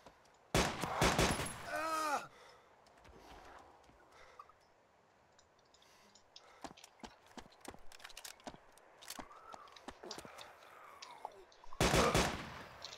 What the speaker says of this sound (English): so I'm just gonna like shoot him